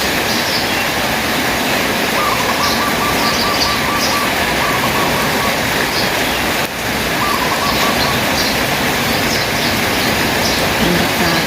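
Around nine doves give soft, repeated cooing calls through the steady roar of heavy rain on a rainy day. The birds are faint and intermittent under the constant downpour.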